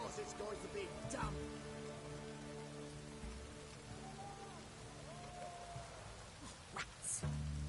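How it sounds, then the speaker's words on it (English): Rain falling in The Witcher 3: Wild Hunt, a steady hiss of drops on surfaces under low ambient game sounds, with a few brief louder knocks and a faint voice. "It's raining, of course it's going to be damp."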